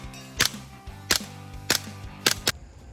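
Five sharp, suppressed 9mm shots through a Rex Silentium Seg-H modular suppressor, fired at uneven intervals with the last two close together, each a crisp crack with a short decay.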